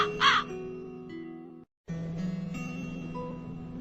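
A crow gives one short, harsh caw near the start, followed by soft sustained musical tones.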